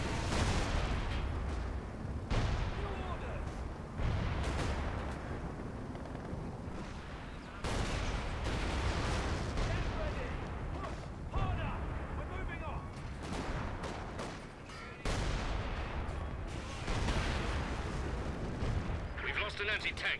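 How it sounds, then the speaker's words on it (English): Anti-tank gun fire in the Company of Heroes 2 battle game, a loud continuous rumble of battlefield booms with heavy blasts recurring every few seconds and someone talking over it. "An anti-tank gun."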